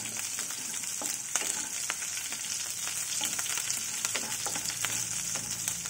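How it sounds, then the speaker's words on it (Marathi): Four finely chopped green chillies and garlic fry in hot oil for a vegetable pulao, giving a bright, steady sizzle with scattered pops and occasional stirring taps, close and uninterrupted by speech. "छान असं आपल्याला फ्राय करायचं याला"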